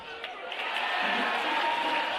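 The College of Idaho home crowd at an NAIA men's basketball first-round game against Jessup, a steady wash of distant cheering and applause filling the gym under faint talk.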